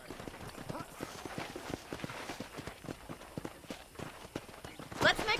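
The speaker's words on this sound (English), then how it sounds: "I picked out a fine horse for you." Horse hooves clip-clop in a steady walking rhythm inside the Red Dead Redemption video game, close and moderately loud, with a voice speaking over the steps.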